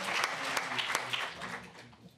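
A conference audience applauds with a short burst of sharp, close handclaps that thin out quickly, mixed with faint voices.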